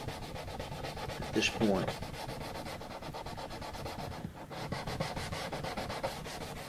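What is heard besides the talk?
sanding fret ends on a Martin D-18 guitar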